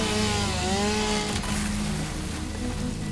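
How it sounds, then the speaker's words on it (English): Chainsaw from the video game Satisfactory, a steady close engine drone with a brief rev sweep near the middle, running continuously and alone without any voices. "We also have a chainsaw."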